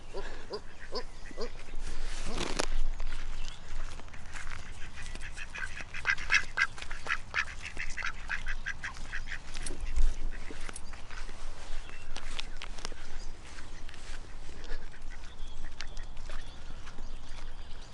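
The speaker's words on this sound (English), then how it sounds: "the black duck who runs the park" A black duck quacking in a park, with scattered quacks among other ducks, footsteps on the ground and outdoor background noise, heard up close throughout.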